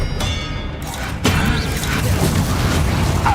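A Bombarda blasting spell explodes in the Hogwarts Legacy video game, a sudden booming impact about a third of the way in followed by a rumbling, crashing tail within busy combat noise.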